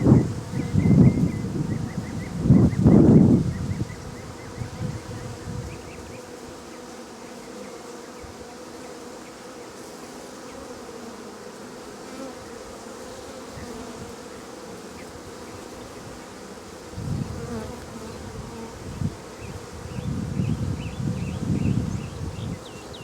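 Honeybees buzzing at an open Saskatraz hive outdoors, with loud close swells of buzzing at the start and again near the end around a quieter, steady hum, plus light wind noise.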